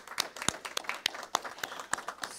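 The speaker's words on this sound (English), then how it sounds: "So I just want to give them a big round of applause." A church congregation applauding at an Easter service, a small group's sparse, uneven claps ringing out distinctly and close, with individual hand strikes easy to pick out.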